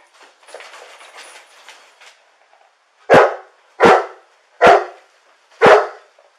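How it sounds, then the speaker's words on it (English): A dog near a house door barks four times, loud and close, with the barks evenly spaced after a stretch of faint rustling. The scene is a police warrant service. "Our dog's not happy over here."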